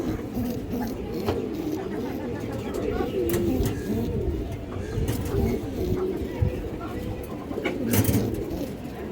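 Pigeons coo softly and steadily in the background at a pigeon sale while someone talks over them, with occasional faint clicks and shuffling nearby.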